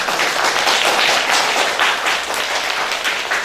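A crowd at an elementary school event with the provincial governor applauds a second-grade pupil, steady dense clapping from many hands, fairly loud and continuous.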